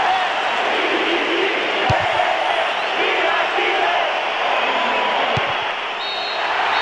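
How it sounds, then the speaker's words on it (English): A stadium crowd roars in Pro Evolution Soccer 6 as the referee ends the match, a dense, steady wall of cheering that holds at full volume throughout. "The ref ends the game and a huge roar from the crowd."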